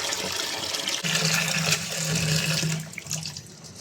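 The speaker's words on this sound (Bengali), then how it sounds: "তো পাতাগুলা হচ্ছে আমি ভালোভাবে ধুয়ে নিব, একদম ময়লা যাতে না যাতে থাকে।" Tap water runs steadily over thankuni leaves being rinsed at a kitchen sink, a close, full splashing rush that shifts a little as the leaves are handled, then eases near the end.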